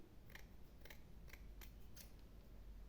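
Scissors cut ribbon in five quick, crisp snips spaced roughly evenly, close and quiet against a faint background hiss.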